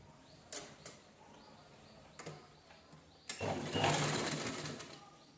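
A sewing machine stitches a fabric strip onto a blouse neckline, quiet at first with a few clicks and knocks, then a short run of louder whirring stitching.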